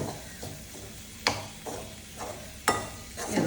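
Tomatoes are sautéed in a pan for bitter gourd bhaji, a low, steady sizzle broken by a few scraping stirs of the spatula against the pan, close and unaccompanied by speech.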